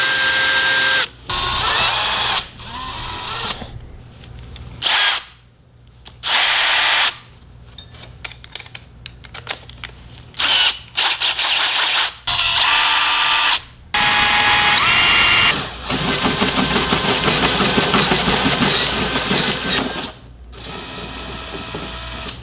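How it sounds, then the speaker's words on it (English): Power drill boring a hole with an 11/16 spade bit for an Evo front bumper quick release kit, loud whirring in repeated bursts with brief pauses, then a longer steady run, close up. "So now I'm gonna be using an 11/16 spade bit right here"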